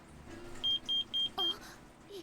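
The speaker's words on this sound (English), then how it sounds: "That beeping scared me." Four short, evenly spaced electronic beeps sound in the Uma Musume Pretty Derby video game, loud and clean against quiet background music.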